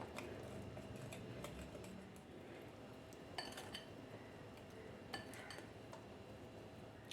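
Plum cake batter is mixed into an egg mixture in a bowl, with light clinking and tapping of a spoon against the bowl heard at irregular moments over a quiet background.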